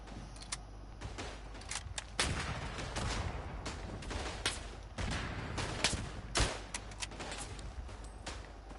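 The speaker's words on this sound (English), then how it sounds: "Nice, that's a good bit of artillery that." Artillery fire in the World War I video game Verdun: a dense run of sharp blasts and cracks, some close and loud, others distant, going on steadily with no pauses.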